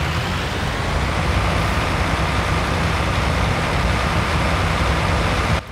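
A Deutz-Fahr tractor engine in the Farming Simulator video game drones with a steady, even rumble. It plays alone and stays at a constant level until it stops abruptly at the end.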